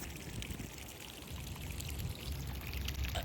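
Floodwater from a flooded basement drains out of a pipe into the street, a steady pressurized pouring rush, fairly quiet and continuous with no talking.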